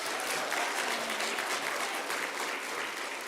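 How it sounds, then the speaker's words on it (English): Steady applause from a crowd, many hands clapping continuously and fairly loud throughout, with no voices standing out. "Can we give them a round of applause?"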